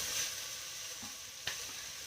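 Canned tomatoes hit a hot pan, giving a steady broad sizzle with a brief sharper clatter near the middle, close and fairly loud, no voices.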